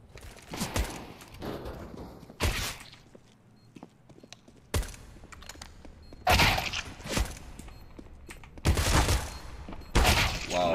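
Gunfire in the video game Counter-Strike, with bursts of loud shots at several points and quiet pauses between them.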